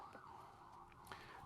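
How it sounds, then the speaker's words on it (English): Wailing emergency siren passing outside, a steady rising-and-falling tone of moderate loudness heard from indoors, continuous through the short moment with no talk over it. "There goes the sirens."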